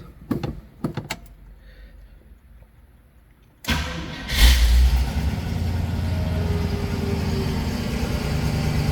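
A 1966 AMC Marlin's engine cranks and catches after a few clicks and thumps, then settles into a steady, close, moderately loud idle that runs on alone.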